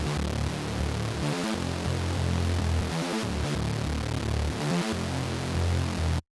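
A dense, buzzy saw synth bass layer with its fundamental stripped out, pulsing in a steady hard dance pattern with gritty upper harmonics, loud and continuous with no talking.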